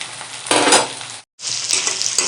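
Onion, ginger and garlic sizzling in a hot pan for a simple chicken curry, with a loud broadband frying hiss and stirring scrapes, a brief silent gap midway before the sizzle resumes.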